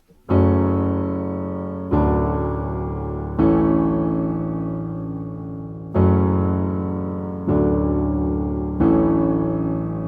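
Sustained piano chords from the chorus of a song, struck one at a time about every two seconds, each ringing out and fading before the next; six chords in all, no voices.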